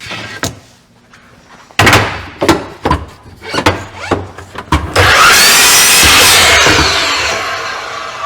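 Miter saw at a miter saw station cutting wood, preceded by a series of sharp knocks and clunks, then a loud sustained whine of the blade through the cut that slowly fades.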